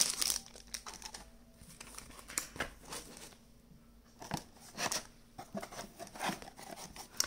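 Packaging of a Pokemon TCG Trainer's Toolkit box being opened up close, with bursts of crinkling, rustling cardboard and plastic separated by short quiet gaps.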